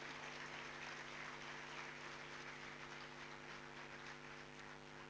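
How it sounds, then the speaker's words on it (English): An audience at an armed forces orientation seminar applauds to welcome Lieutenant General Ramesh Halagali, a steady, dense wash of clapping that holds evenly throughout over a faint constant hum. "please welcome Lieutenant General Ramesh Halagali sir with a big round of applause"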